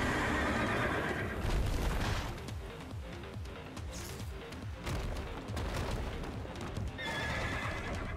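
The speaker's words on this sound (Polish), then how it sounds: "Nie, to tylko konik." A horse in the video game Stellar Blade whinnies loudly at the start and again at the end, with rapid hoofbeats and heavy clatter between the calls.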